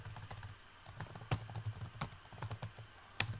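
Keys tapped on a computer keyboard at a relaxed, uneven pace, soft clicks with a few louder strikes, close and quiet with no talking.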